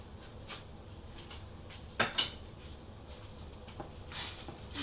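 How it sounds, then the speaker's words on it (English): Spoon scraping and clinking against a pan while bread poha is stirred and sautéed, a few sharp scrapes standing out over a steady low background, no talking. "I have to saute it for another minute or so."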